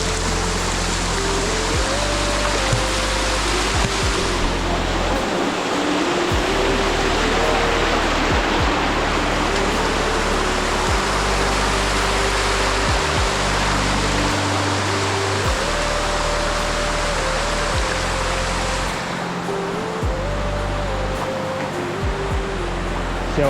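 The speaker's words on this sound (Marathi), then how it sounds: "ह्याच वॉटरफॉलची तुम्हाला 2 शॉट दाखवतात" A hidden waterfall at Bhal village pours with a dense, constant roar of rushing water, loud and unbroken throughout, with a faint stepped melody running underneath.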